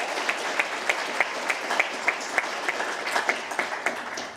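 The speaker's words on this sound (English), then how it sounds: "So one more big round of applause for our team" Steady applause from an awards-event audience celebrating their team, a dense, continuous patter of many hands with some sharper individual claps standing out, heard fairly close and without talk.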